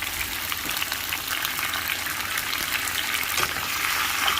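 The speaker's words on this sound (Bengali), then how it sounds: "আলুগুলোকে একটু ভেজে নিচ্ছি" Potatoes shallow-frying with a little salt in oil left from frying fish, for a hilsa curry with tomato: a continuous dense crackling sizzle close to the pan, with no talking.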